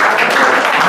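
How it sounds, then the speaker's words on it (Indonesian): A church congregation at a Sunday service breaks into a brief burst of loud, dense applause from many hands, close and continuous. "Tepuk tangan untuk Tuhan Yesus Kristus."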